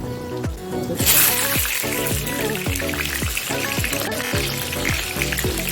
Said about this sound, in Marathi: तर पहिले आपण सुरण तळून घेऊया